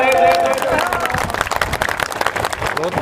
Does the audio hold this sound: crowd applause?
yes